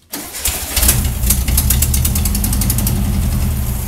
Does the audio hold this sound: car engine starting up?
yes